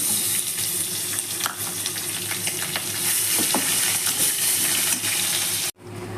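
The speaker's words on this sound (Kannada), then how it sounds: "ಈಗ ಇಲ್ಲಿ ಒಂದು ಈರುಳ್ಳಿ ಒಂದು ಹಸಿಮೆಣಸು ಹಚ್ಚಿಟ್ಕೊಂಡಿದ್ದೆ ಅದನ್ನ ಹಾಕೋತಾ ಇದ್ದೀನಿ" Chopped onion and green chili frying in a pan for cabbage rice, a loud, steady close-up sizzle with faint stirring scrapes, cutting off abruptly near the end.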